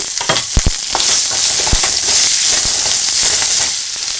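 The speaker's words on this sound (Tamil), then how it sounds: "எடுத்து வச்ச பூண்டு, இஞ்சி, பச்சை மிளகாய் போட்டு ஒரு வணக்கிட்டு வெங்காயத்தையும் போட்டுருவாங்க" Garlic, ginger, green chili and onion fry in a hot pan for chicken gravy, a loud continuous sizzle close by, broken by sharp crackles and spatula stirring knocks.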